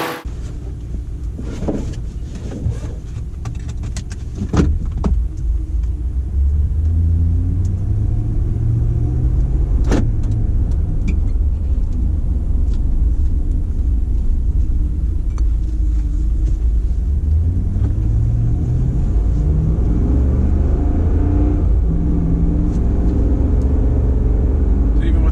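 A 2014 Ram 2500 pickup truck, rebuilt after heavy damage, rumbles steadily while driving, its engine loud and constant from start to finish under occasional faint talk.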